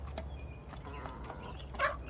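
Chickens on a farm, including golden comet hens, cluck softly at a distance against a steady background hum, with a brief louder cluck near the end.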